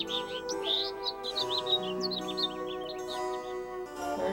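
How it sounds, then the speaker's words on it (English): Birds chirp repeatedly in a Baten Kaitos village scene, with bright, rapid tweets scattered over a sustained musical background, fairly loud and with no talking. "Birds are chirping."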